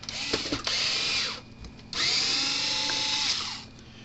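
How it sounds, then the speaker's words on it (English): A power driver spins out tamper-proof screws from a Gallagher M600 electric fencer, whining in two steady bursts of about a second and a half each with a brief pause between, close and fairly loud. "So we need to find the right bit, take the screws out. These are tamper-proof type bit"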